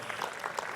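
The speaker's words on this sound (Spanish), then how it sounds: "Drusila, párate para que te aplaudamos" A small audience claps for the winner of a novel-writing tutorship at a book presentation during the Fiesta del Libro y la Rosa, a brief, steady patter of applause at moderate distance.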